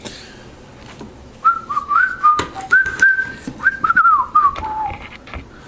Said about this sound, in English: I don't know what that little whistle was